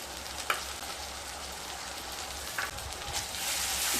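Tomato paste cooking down with onion, ginger and garlic paste over low to medium heat, a soft, even sizzle with a few spatula taps and scrapes, fairly quiet and close, no speech.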